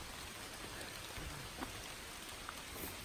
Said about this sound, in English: 7 days of dry weather gave way to rain this morning.